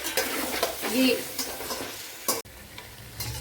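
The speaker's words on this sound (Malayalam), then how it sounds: "അട തട്ടിക്കൊടുത്ത് ഇതിനെ ഇനി നല്ലപോലെ ഒന്ന് വഴട്ടിയെടുക്കാം" Ada rice flakes are stirred and fried in ghee in a pan, with a soft continuous sizzle broken by repeated scraping strokes of a spoon, close up and with no voices.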